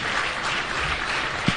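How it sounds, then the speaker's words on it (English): An audience claps for a Deputy Speaker at a university expo event, a short burst of steady, fairly loud applause. "let us stand up and clap for him"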